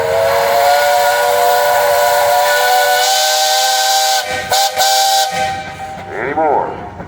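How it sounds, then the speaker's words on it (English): A steam traction engine's whistle blows a loud, sustained shrill tone for several seconds, breaks into short stuttering bursts, then fades into hissing steam and a wavering tail. "All right, guys, you got a whistle."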